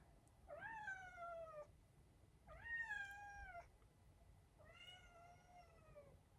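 A male cat meows three times, shut out and unable to get in, each cry long and drawn-out with clear pauses between, fairly close and alone against a quiet background.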